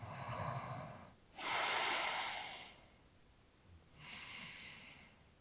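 Slow, deep yoga breaths, close to the microphone: a soft exhale, a long loud breathy inhale or exhale, then a third shorter breath after a pause.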